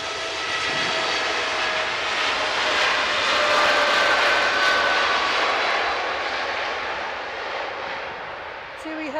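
A jet airliner departs Manchester Airport, its broad engine roar swelling and then slowly fading over several seconds, loud and sustained in open air, with faint nearby talk underneath.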